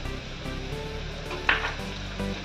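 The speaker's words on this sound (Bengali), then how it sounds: "দেখো আমার পেঁয়াজটা ভাজা ভাজা হয়ে গেছে" Onions sizzle and fry in a pan for egg biryani, a steady close crackle with a brief clink of utensil partway through.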